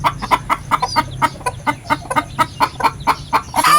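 Two sister hens share one nest, one brooding while the other lays, and they cluck in a close, regular run of short pulses. A louder, brighter squawk bursts out at the end.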